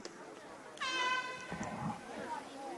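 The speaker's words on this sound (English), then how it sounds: "Someone brought the air horn." A loud air horn blares for about a second at a Pony League baseball game, its steady harmonic honk rising above crowd noise, then the crowd chatter continues.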